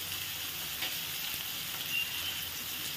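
Potato and pumpkin pieces fry in a pan with salt and turmeric, a steady close sizzle with faint occasional stirring, no talk.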